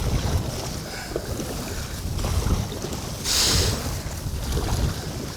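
Strong wind buffets the microphone on open water from a small fishing boat, a steady loud rush with a brief stronger gust in the middle and water sloshing against the hull.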